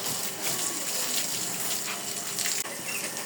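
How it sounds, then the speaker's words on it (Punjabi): Water gushes in a steady stream onto cracked ground in a Punjabi village yard, loud and close, running continuously with one brief dip near the end. "ਫਟਿਆਂ ਉੱਤੇ ਮਾਰ ਦਈਏ ਪਾਣੀ"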